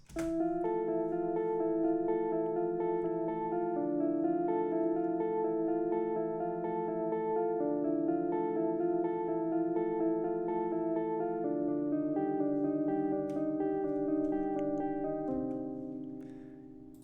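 A synth arpeggiator in FL Studio plays a steady, repeating note pattern with bright sustained harmonics and echoey effects, continuous for about fifteen seconds before fading at the end.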